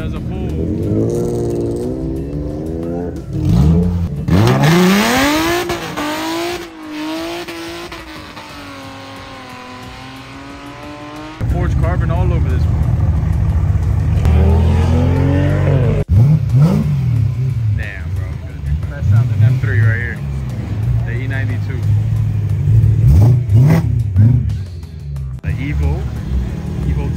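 A car engine revs and pulls hard, rising in pitch through the gears, loud and close, with people talking over parts of it.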